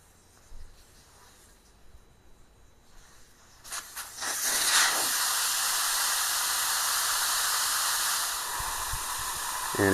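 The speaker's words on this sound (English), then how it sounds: "drain all the air pressure out of this tire" Air hisses loudly out of an M923 military truck tire once the valve core is pulled, rising abruptly from a quiet start into a steady, close, continuous rush that holds to the end.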